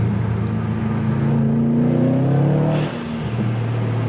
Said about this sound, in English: you guys can hear the intake. Because the intake sounds crazy when you get on it.